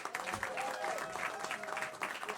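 A comedy club audience applauds the hosts with steady, dense clapping for a couple of seconds, with a thin whistle or cheer rising briefly through the crowd noise.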